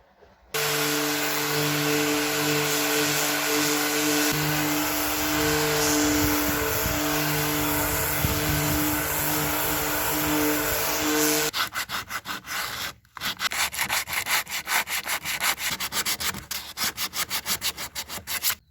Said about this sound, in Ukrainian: двері зачищені шліфувальною машинкою